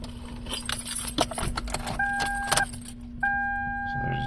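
Keys jangle and an ignition key turns in a 2002 Toyota Camry with a crank-no-start fault, followed by steady dashboard warning chimes, close and clear.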